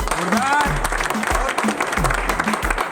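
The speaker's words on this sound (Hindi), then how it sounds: "अवधेश गुरुदेव के लिए एक बार जोरदार तालियां।" Audience applause at a motivational talk, clapping for Awadhesh Gurudev, rhythmic and fairly close, with low thumping beats and a voice running under it.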